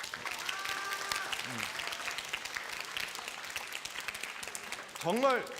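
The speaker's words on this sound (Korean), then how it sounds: "우리 수고하고 애쓴 선생님들에게 박수 한번 보내주세요." Youth group audience at a church service applauding their teachers, continuous clapping with voices over it and a brief louder vocal burst near the end.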